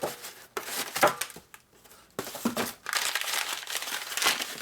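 Crinkling and tearing of a taped eBay parcel holding a 1957-76 XL Sportster kick starter gear and shaft, in bursts of close, loud crumpling with short pauses between.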